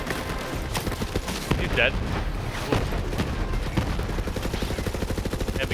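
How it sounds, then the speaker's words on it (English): Rocket launcher and gunfire in the Borderlands 3 video game, a run of sharp booming blasts and rapid shots with a brief spoken line over the noise. "let's try out the rocket launcher"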